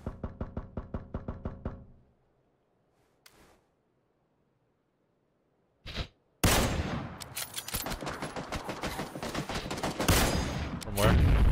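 Gunfire from the PUBG battle royale game played on Xbox One X: a rapid burst of about ten shots, a couple of isolated cracks, then dense, loud sustained automatic fire with overlapping shots.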